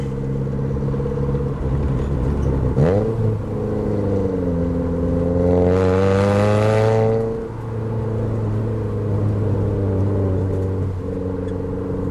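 A Suzuki Ignis Sport's small 1.5-litre engine idles, then revs sharply up to a high-pitched scream near 8,000 RPM and drops back to a steady idle, with a brief blip earlier.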